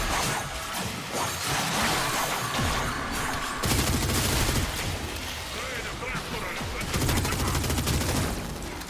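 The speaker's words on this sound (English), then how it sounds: "It's a lot of shooting." Gunfire in Warframe rattles almost nonstop, dense rapid volleys of automatic shots with sharp cracks and crashing impacts, loud and close throughout with several surges in intensity.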